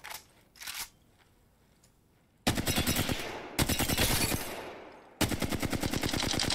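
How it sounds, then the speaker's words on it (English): Apex Legends gunfire plays in rapid automatic bursts, loud and dense, each string cut off by a short pause, after a few faint clicks and a quiet start. "Ooh, all those shots."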